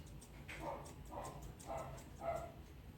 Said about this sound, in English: Please excuse Prancer barking.